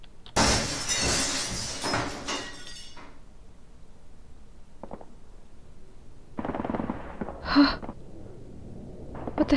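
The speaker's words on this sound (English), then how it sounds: "Glass just shattered and I thought it was safe here." Glass shatters loudly in the video game Sunset, a sharp burst with tinkling fragments, followed by quieter rattles and a few later crashes and clinks.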